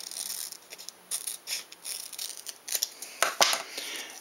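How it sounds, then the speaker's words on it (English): Scissors snip and crunch through folded material along a fold line, several short close cuts in an uneven rhythm with brief pauses, no voices. "and then I'm going to cut it on this fold line."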